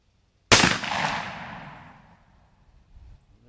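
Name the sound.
gunshots from R92 and Bulldog in 45LC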